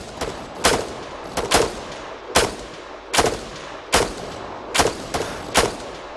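Gunfire in a military video game, loud close bursts and single shots roughly every half to one second, each a sharp crack with a short decaying tail.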